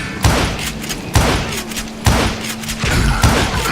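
Gunfire in the Western shooter Call of Juarez: Gunslinger, with four loud, evenly spaced shots cracking out about a second apart. Each blast is followed by a booming tail, and no voices are heard.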